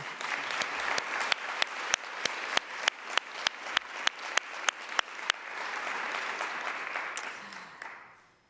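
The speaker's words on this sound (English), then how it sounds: "Could we have a round of applause for your school?" A round of applause from a nursing conference audience at a lecture, a thick, continuous clapping crowd with one or two sharp, regular claps standing out close by, swelling and then dying away at the end.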